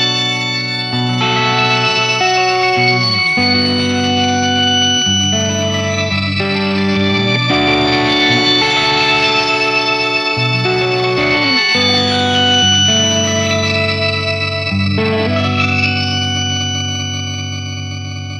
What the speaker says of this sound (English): here's what this setting sounds like without the expression ramper engaged